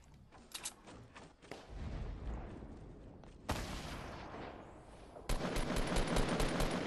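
Gunfire from a Fortnite match: bursts of automatic weapon fire and sustained rapid shots, loud and close, with sharp onsets and no talk over them.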